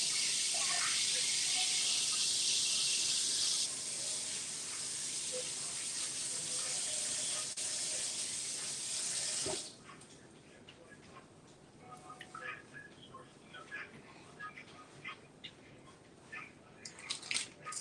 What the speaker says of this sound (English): Now I'm going to go rinse these off because they have a dark colored juice that I don't like.